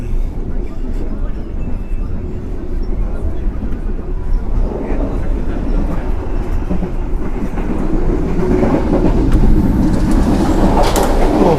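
Train carriage rocking and rumbling as it passes over a car connection in a business-class train, a steady loud rolling roar with clattering that builds toward the end, people talking over it.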